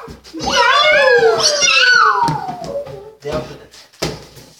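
A human voice imitates a cat's meow with a long, loud, sliding, wavering cry, followed by softer knocks and brief sounds.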